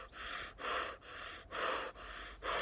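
Several quick, forceful breaths follow one another in a steady rhythm, each a close, loud rush of air with brief pauses between.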